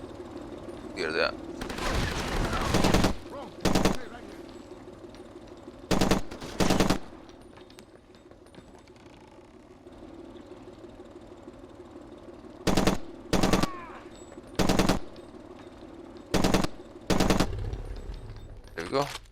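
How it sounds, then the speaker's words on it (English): Enemy gunfire in the video game Far Cry 2 arrives in several short, sharp bursts of automatic shots separated by pauses, loud over a quieter game background, with a voice talking briefly between. "It's another one who's shooting at me."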